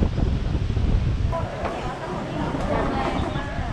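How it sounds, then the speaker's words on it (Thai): Strong wind buffets the microphone at the seaside in Pattaya, a loud continuous roar of gusts with surf-like noise underneath and voices mixed in. "ลมแรงมาก"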